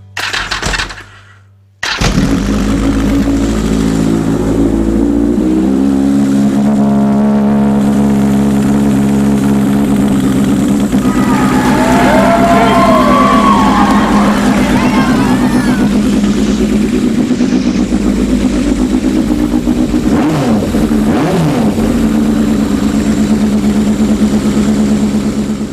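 A Yamaha XS1100 cafe racer motorcycle with a blown head gasket and a big bore kit cranks, then runs loud and close with a rough, uneven engine note.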